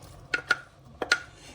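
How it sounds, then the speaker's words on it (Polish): Four solid thuds land in two quick pairs as potatoes drop into a metal cooking pot, each with a short ringing clank. "I ziemniaczki lądują w garnku."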